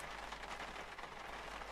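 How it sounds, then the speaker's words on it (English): Heavy rain drums steadily on the windows of a car during a storm, a dense continuous patter with big, hard drops and no talk. "I love it when the rain hits the windows."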